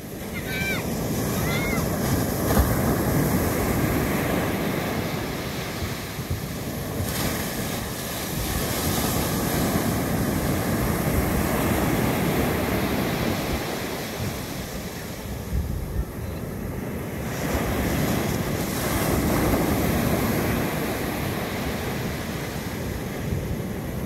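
Steady ocean surf over a reef and wind rush over the microphone, with waves swelling and fading in a continuous roar.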